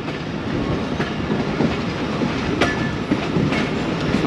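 A Pakistan Railways Awam Express train runs on tracks between Gujar Khan and Wazirabad Junction, with a loud, steady rolling roar and a rhythmic clickety-clack of wheels over rail joints, heard up close with no talk.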